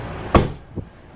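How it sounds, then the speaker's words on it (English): A single solid thud of a Tesla car door shutting nearby, followed by a softer faint knock. "And I have closed the door"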